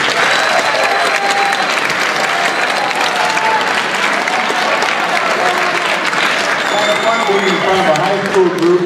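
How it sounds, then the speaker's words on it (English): Loud, sustained applause from a high school audience at a school safety presentation, dense clapping that fills the room steadily for the whole stretch, with voices rising near the end. "we never get that sort of applause"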